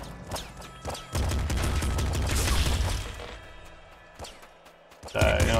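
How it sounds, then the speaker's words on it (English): A machine gun in the video game Nuclear Throne fires a loud, dense stream of shots lasting about two seconds, followed by quieter scattered sounds and a final burst, with a voice speaking over it. "Machine gun, I like that. Shoots, quite a lot of bullets."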